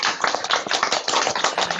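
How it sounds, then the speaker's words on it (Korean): Audience applause fills a lecture hall at the close of a safety education session, a dense, steady burst of many hands clapping, loud and close, with no talk over it. "다시 한번 우리 이덕 교수님 박수 부탁드릴게요"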